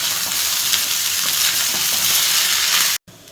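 Basmati chicken fried rice stirring and frying in a hot pan, a loud, dense, steady sizzle close up with faint scraping, cutting off abruptly near the end before a brief quieter return.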